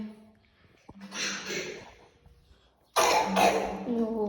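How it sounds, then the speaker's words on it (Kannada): A young boy coughs indoors, a burst of rough coughs and throat clearing, then a louder, harsher coughing fit near the end, close and loud. "ಕೆಮ್ಮು ಬಂದ್ಬಿಟ್ಟಿದೆ ನನ್ನ ಮಗನಿಗೆ"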